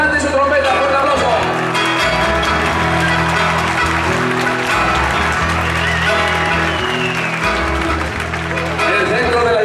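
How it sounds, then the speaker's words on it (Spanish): Audience applause and cheering for a trumpeter and singer at a Basque town festival concert in Berrobi, a dense sustained crowd sound over loud band music, steady throughout. "¡Fuerte aplauso!"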